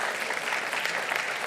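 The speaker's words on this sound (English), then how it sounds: "So let's give it a round of applause for all our students who came out last Friday." A round of applause at a school athletic signing ceremony, with dense, even clapping from a gathered crowd that holds steady and fairly loud for the whole stretch.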